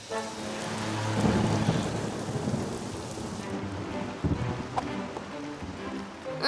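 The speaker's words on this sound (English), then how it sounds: "It's still raining." Cartoon thunderstorm with steady heavy rain hissing on surfaces and low rolling thunder swelling and fading, a sharper crack near the end, fairly quiet overall.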